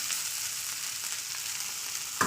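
Soaked flattened rice tipped into vegetables frying in a pan, an even, moderate crackling hiss throughout, ending in a quick bump.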